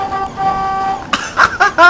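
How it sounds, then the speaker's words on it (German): Bus horn honked in the driving simulator OMSI 2 on a Hamburg night route, a steady tone briefly, then a few short toots, loud and near, with a voice over part of it. "Eben mal hupen."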